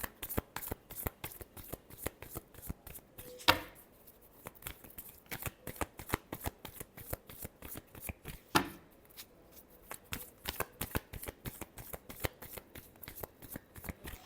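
A deck of tarot cards is shuffled close by in a fast, steady run of crisp riffling flicks with two sharper snaps along the way and no talking.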